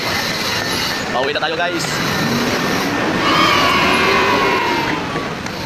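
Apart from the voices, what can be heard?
LRT train at a station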